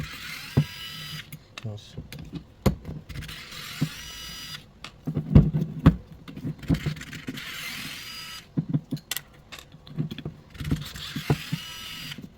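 Screws on a BMW X3 or X5 transfer case actuator motor are worked loose with a T25 driver, making sparse clicks, ratchet-like ticks and metallic clatter up close, with brief speech between the sounds.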